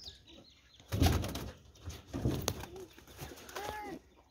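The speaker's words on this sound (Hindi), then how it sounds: "एक ये पकड़ा है कबूतर, ये देख रहे हो सफेद वाला" Caught pigeons, one white and one black, tied up in a village setting, flap their wings in a few short, loud bursts of rustling flutter, close by, with quieter shuffling in between.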